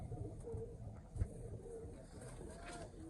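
Pigeons in a domestic loft give soft, repeated low coos at a moderate distance, over a constant background rumble, with a faint voice nearby.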